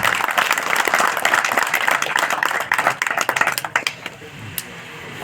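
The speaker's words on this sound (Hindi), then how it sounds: "जोरदार तालियां।" Loud applause from an audience at a formal gathering as a Delhi Police inspector is invited forward, dense clapping that thins into scattered claps and fades out.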